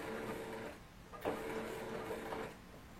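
A sewing machine runs steadily, stitching a seam a few millimetres from an earlier line on a ruffled dress, its mechanical whir close and continuous with a brief sharp knock partway through.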